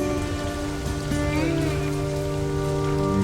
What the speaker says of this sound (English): as work starts on the foundations for the extensions, so does the rain.